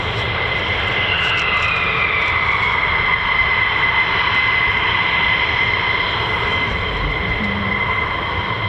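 A US Air Force fighter jet, an F-15 or F-35 of the 48th Fighter Wing, departs RAF Lakenheath with a loud, sustained engine roar that holds steady and close throughout.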